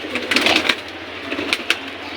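A domestic female pigeon gives a few soft, brief coos close by over a faint background, in a short burst.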